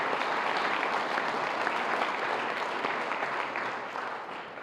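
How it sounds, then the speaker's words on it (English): An audience at a Chamber of Commerce awards gala applauds local business nominees, a thick, even wash of many hands clapping that holds steady and then begins to fade toward the end. "So we ought to give them a round of applause too."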